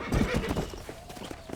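A horse neighs and clops about close by as a voice speaks firmly over it, the hooves and whinny loud and busy for a moment.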